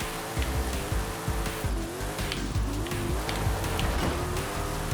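A Ford F450 heavy-duty truck accelerating hard and drifting on a wet road, with a loud, steady engine roar that rises and falls through gear changes and tire noise running through it.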